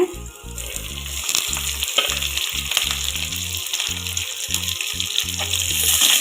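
Chopped garlic and cubed onion sauté in a hot pan with a steady close sizzle, broken by repeated rhythmic scraping and stirring strokes that run throughout.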